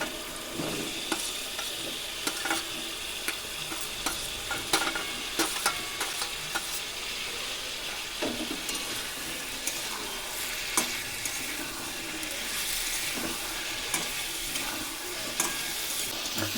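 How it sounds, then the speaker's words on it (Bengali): Potatoes and drumstick stalks, already fried, sizzle steadily in oil-rich masala with a pinch of sugar in a pan, with scattered scraping stirs throughout for a Bengali rui fish curry. "দিয়ে দিচ্ছি ভেজে রাখা আলু আর ডাঁটা।"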